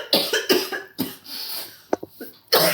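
Persistent cough lasting about six weeks: a series of harsh, close coughs in irregular bursts, some single and some doubled, with short quiet gaps between.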